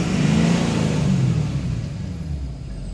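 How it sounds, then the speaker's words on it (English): A 2012 Ford F350 pickup with a Donaldson muffler, stock resonator and stock tailpipe, its engine revving and then easing off in a steady drone, with a faint high whistle in the exhaust note. "There is a nice exhaust note whistle, which is really what I like."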